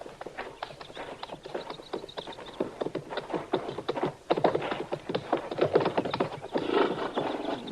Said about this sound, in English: All right, Chester, you can bring the horses out now.